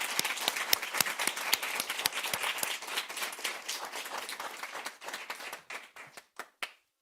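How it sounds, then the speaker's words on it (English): At a school board of education meeting, an audience applauds the district's student scholars with a burst of dense clapping that thins out into a few scattered, isolated claps. "Let's give these scholars another round of applause."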